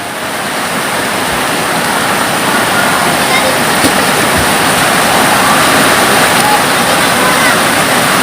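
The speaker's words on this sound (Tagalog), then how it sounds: "Lakas ng ulan mga kabarts." Heavy rain pours down in a loud, steady roar of broadband noise that fills the whole clip without letting up.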